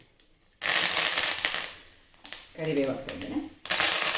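Curry leaves crackle loudly in hot coconut oil with spluttered mustard seeds and asafoetida, giving a dense, close sputtering that briefly dips while a voice speaks over it.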